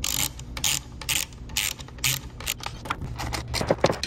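A ratchet wrench tightens the bolts on the compression plates of a DIY 48V LiFePO4 battery pack, making repeated rapid clicking bursts with brief pauses between strokes, close up and with no talk.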